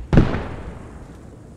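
A single sharp blast, like distant gunfire, from a Daimler armored car firing on emplacements in the video game Post Scriptum, booms and then fades into a lingering rumble.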